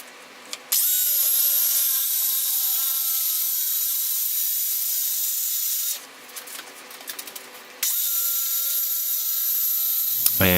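A circular saw rips scrap plywood along a homemade straight-edge guide, a loud, sustained whining cut that briefly drops to rattling, spinning down, then surges again, close by and with no talking.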